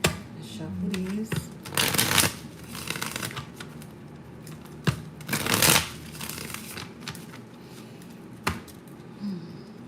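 Playing cards shuffled by hand in bursts, with a few sharp riffles and softer sliding passes, close and moderately loud, while a person speaks quietly in between.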